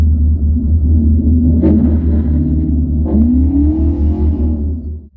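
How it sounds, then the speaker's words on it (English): An LS-powered Mazda MX-5 idles nearby with a deep, loud, lumpy rumble that pulses steadily, and the engine rises in brief blips as it is revved at a track day. "That's an LS powered MX-5 and it is sick."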